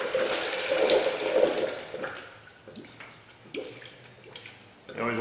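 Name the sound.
coolant filling through smart funnel, burping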